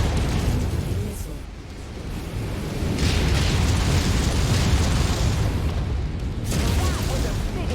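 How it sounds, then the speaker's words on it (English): A large explosion in the mech combat video game MechWarrior 5 booms and rumbles loudly, with several heavy blasts and crackling debris through the clip and a player's voice heard briefly. "That was a big explosion."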